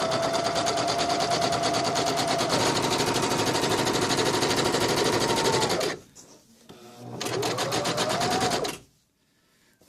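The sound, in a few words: sewing machine sewing a basting stitch on bedskirt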